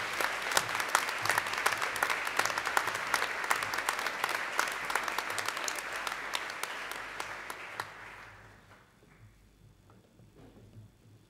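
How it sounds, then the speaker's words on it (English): A school awards assembly audience applauds after a speech, a dense burst of many hands clapping that holds steady for around eight seconds before quickly dying away into quiet room noise. "Can we give her another round of applause?"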